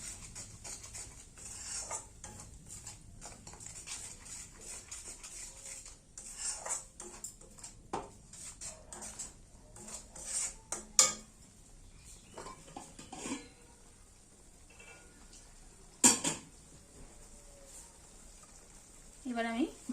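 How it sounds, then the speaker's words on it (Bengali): Spiced bata fish with poppy seed paste, sugar and chilli powder is stirred and sautéed in a pan, giving quiet, scattered spoon scrapes and metal clinks that come and go, with a voice talking at times. "সব কিছু কষিয়ে নেব"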